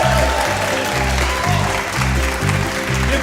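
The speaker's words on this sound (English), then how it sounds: "Give him a lovely round of applause." A concert audience at St Pancras Old Church applauds a bass player: dense, steady clapping that fills the room, with a pulsing low bass line playing underneath throughout.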